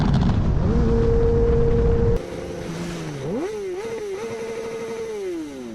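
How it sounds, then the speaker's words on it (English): A motorcycle engine revs loudly and close, holding a steady pitch, then dropping and rising again through several rev changes, running alone without voices. "That's a motorcycle."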